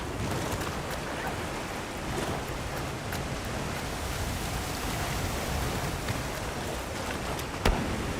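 A dense, steady roar of heavy rain pouring down in the video game Monster Hunter Wilds, constant and enveloping with no voices, a single sharp tick near the end.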